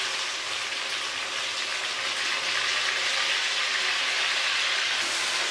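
Chicken sizzles and fries in a karahi after ginger garlic paste is added, a loud, steady hiss of hot oil that continues unbroken without talk.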